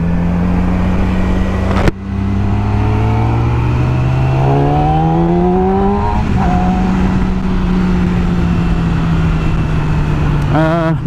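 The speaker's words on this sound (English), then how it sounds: "My bike comes with a stock exhaust, and it still sounds really mean, really awesome." Motorcycle with a stock exhaust revving hard and climbing through the gears, the engine pitch rising and falling in loud sweeps close by, with wind noise during the ride.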